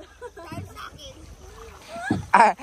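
Paddles dip and splash beside a rowboat in a clear mangrove lagoon at Sta. Cruz Island, Zamboanga City, a few soft close strokes heard under people talking, with one louder splash at the end.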